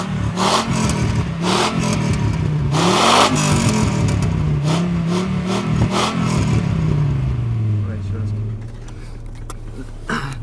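A Honda five-cylinder engine, as used in the Inspire and Vigor, revs loudly and repeatedly, its pitch rising and falling in several blips before settling to a steadier idle near the end.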